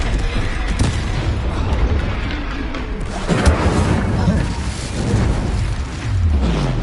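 An incendiary fire spell detonates in Hogwarts Legacy while battling a troll, a loud broadband boom and roar that persists as continuous combat noise across the whole stretch.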